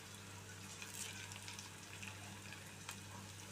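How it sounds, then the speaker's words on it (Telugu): Egg curry ingredients with curry leaves fry gently in a pan over a low flame, giving a steady, soft sizzle close by with faint crackles and no talking. "లో ఫ్లేమ్లో చక్కగా మనం వేయించుకుందాం."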